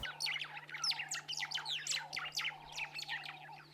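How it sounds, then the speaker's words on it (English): White-browed sparrow weavers in the Botswana bush chatter in rapid, busy bursts of close chirps and squawky notes, overlapping continuously above a faint low hum. "The calls you hear around me here belong to a very common bird called the white-browed sparrow weaver."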